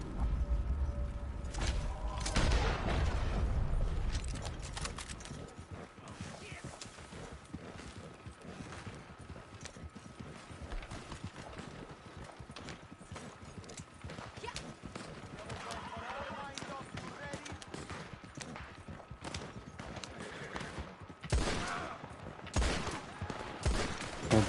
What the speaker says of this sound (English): Hear them shooting.